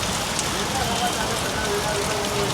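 Continuous rainfall in Ahmedabad drums on nearby surfaces, an unbroken wash of patter and hiss at a steady, fairly loud level.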